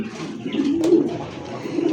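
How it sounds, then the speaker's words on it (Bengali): Caged high flyer pigeons at a breeding farm coo in a low, steady murmur, with soft overlapping calls that swell slightly midway and continue throughout. "হাই ফ্লাওয়ার কবুতর খুব সুন্দর"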